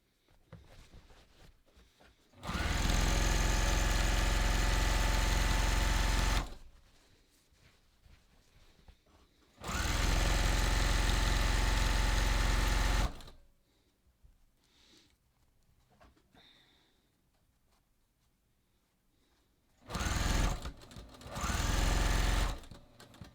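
Sewing machine stitching a seam on jeans along a drawn line, running in three loud mechanical bursts of a few seconds each with quiet handling pauses between, close and without talk.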